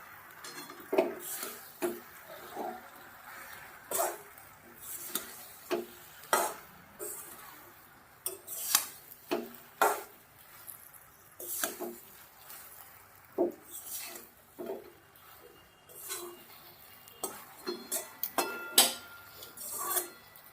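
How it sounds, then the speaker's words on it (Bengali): Jaggery is stirred into a jujube pickle in a pan, with irregular scraping and clinking of a utensil against the metal pan, close and moderately quiet, in uneven strokes throughout. "এবার ভালো করে নাড়িয়ে দেবো, আস্তে আস্তে গুড়টাকে গুলিয়ে দেবো আর গুড়টার সঙ্গে মিশিয়ে নেবো।"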